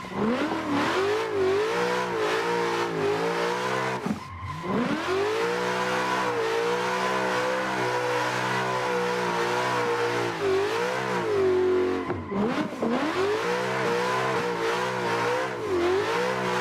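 A drift car in the Assetto Corsa racing game on a backwoods track screams at high revs, its engine pitch wavering as it slides, dropping sharply twice during quick deceleration before climbing again, loud and steady with no talking.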